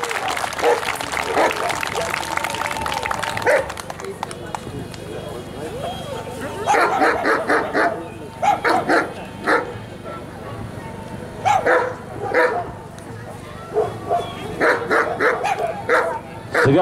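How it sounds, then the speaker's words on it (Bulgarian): A dog barks in short, loud bursts with yips mixed in, attacking during a protection-dog demonstration, alongside someone talking and a crowd's applause in the background. "кучето моментално го напада"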